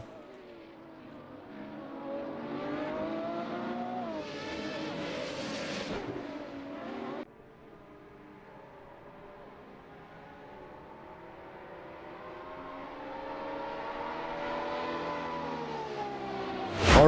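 A field of 23 Ferrari race cars laps Imola: loud engines climb steadily in pitch through the gears, with a sharp shift or change of car about a third in, then another long rising howl ending in a sudden loud burst.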